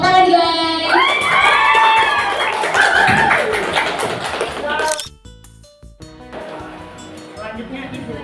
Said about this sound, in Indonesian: Jadi kita layak ngasih sama dia apresiasi. Tepuk tangan guys.